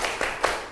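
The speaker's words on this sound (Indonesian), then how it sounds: "Tepuk 3 kali." A school class claps in unison, with sharp near claps in a short quick rhythm, the last one loudest.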